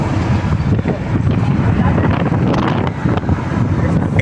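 Steady wind rushes through an open vehicle window on a drive toward Batangas, a broad, constant buffeting roar that fills the whole stretch without pause.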